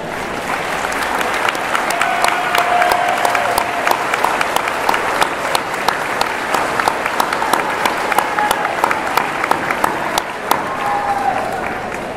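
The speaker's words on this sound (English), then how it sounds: "I would ask the parents of our graduates to please rise so our seniors can give you a round of applause" Graduating seniors at a high school graduation ceremony give their standing parents a round of applause, a broad, sustained crowd clapping with scattered sharper claps and a couple of faint whistles, steady throughout.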